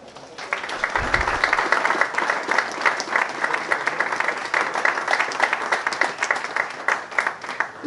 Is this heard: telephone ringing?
no